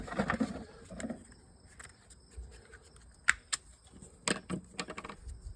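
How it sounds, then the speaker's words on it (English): Teflon tape being wrapped around a pipe nipple for an RV gas regulator repair, heard as close, irregular crinkling and tapping clicks in a quiet setting. "It's just this tape, wrap it around."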